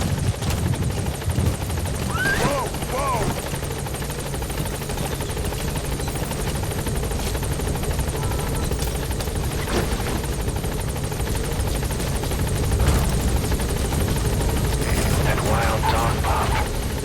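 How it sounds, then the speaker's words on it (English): Support helicopter arriving at a landing zone in Metal Gear Solid V: The Phantom Pain, a loud continuous rotor thrum and engine drone running under radio voices and game sound effects. "Support helicopter has arrived."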